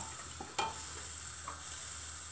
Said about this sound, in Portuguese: Conforme você vai mexendo, a abobrinha vai desmanchando aqui.